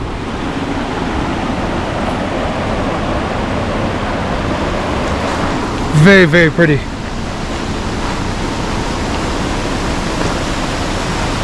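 A waterfall on the Argentine Pass Trail pours in a steady, close, broadband rush without a break, and a person speaks briefly midway over it.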